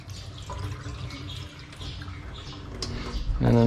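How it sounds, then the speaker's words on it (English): Water splashes and trickles as rice is rinsed in a small rice cooker pot, a continuous close swishing that grows louder at the end. "So I put the rice in my little rice cooker, give it a bit of a rinse to wash the starch off."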